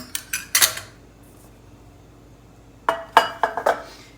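Metal clinks and clatters as a prepared muffin pan for healthy apple muffins is handled on a kitchen counter, a short burst of knocks followed by a pause, then another cluster of sharp clanks, close and fairly loud.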